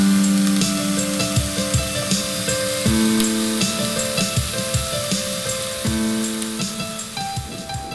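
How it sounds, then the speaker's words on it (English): Onions, carrots, peppers and mushrooms fry and brown in a pan, a loud continuous sizzle broken by regular scraping stirs, while steady tones hum underneath. "We're going to allow these aromatic vegetables to brown just a little bit too."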